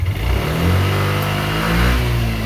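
A Yamaha Aerox scooter engine is held at high revs, a loud, close, steady mechanical drone with a slight rise in pitch partway through.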